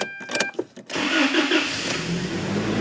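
A Toyota Tacoma 4-cylinder engine cranks briefly and catches, then settles into a steady, close idle.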